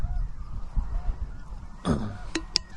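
Geese honk in a spring hunt in Saskatchewan: a few sharp honks near the end over a low rumbling background, fairly close, with no clear speech.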